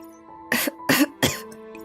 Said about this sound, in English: but the reflux of opera chokes her vocalizer systems, and she can only cough uncontrollably.